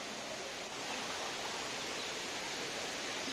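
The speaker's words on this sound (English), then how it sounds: "we can see a great waterfall. So yeah, the water flow is flowing, and there are so many huge rocks." A waterfall at an estate in Wayanad pours over huge rocks, heard as a steady, even broadband rush of falling water at moderate distance, continuous and without speech.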